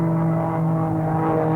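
An aerobatic airplane engine drones steadily and loudly during aerobatic flight at the 1982 World Aerobatic Championship, a continuous propeller hum with a strong low tone and no talk over it.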